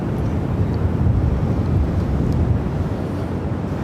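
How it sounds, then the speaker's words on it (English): A large American Airlines Boeing 787-8 Dreamliner arriving from Dallas Fort Worth rumbles on landing at Phoenix airport, a steady, loud low roar with wind buffeting the microphone throughout. "this American 787-8 Dreamliner coming in from Dallas Fort Worth"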